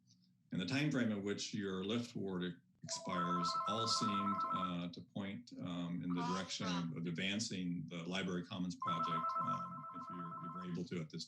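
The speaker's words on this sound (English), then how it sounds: "Sorry for my phone ringing at the same time as" A telephone rings during an online committee meeting, a repeating tonal chime sounding in two bursts beneath continuous close speech.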